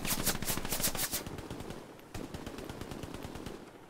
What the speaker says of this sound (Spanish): ¿Dónde mierda me disparan?